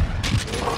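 Gunfire bursts in the Metal Gear Solid V video game, a couple of short sharp shots close together over a busy game background, with a voice faintly underneath.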